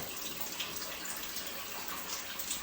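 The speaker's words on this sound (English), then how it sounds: "So I'm draining down now." Water rushes out of a domestic hot water and heating system as it is drained down during a new boiler installation, a steady, continuous hiss of flow with no voices.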